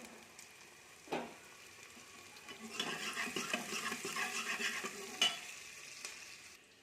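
Onions and chillies fry in a pan for a potato and vadi curry, a low sizzle broken by a few stirring scrapes and a louder crackling stretch in the middle, with a sharp clink later.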